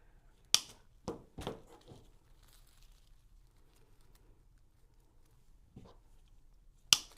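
Cutters snipping through a silk flower stem for a cream sunflower arrangement, a few sharp, separate clips spaced out across quiet pauses, close and crisp, with no talking.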